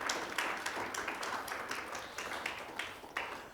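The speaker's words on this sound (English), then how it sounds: "let's go ahead and give her a round of applause as well" An audience at a university religious inclusion symposium gives a round of applause, a soft, moderately distant patter of clapping hands with light irregular peaks running throughout.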